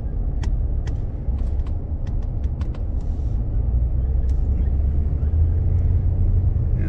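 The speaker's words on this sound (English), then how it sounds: "As you can see, there's quite a bit of traffic and lots of people walking around" Downtown street traffic on Cottage Street in Bar Harbor, Maine, in summer: a steady low engine rumble from passing vehicles with scattered sharp clicks and ticks near the start.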